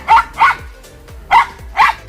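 Four sharp barks from a Finnish Spitz, Finland's national dog breed, come in two pairs with short pauses between, loud and close with no other sound.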